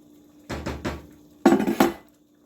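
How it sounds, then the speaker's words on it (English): Canned cooked red beans tipped into a pot of chicken and rice, a few metallic clinks and scrapes of the can and spoon against the pot, then a heavier clattering thud. "So I'm going to add a can of red beans in here."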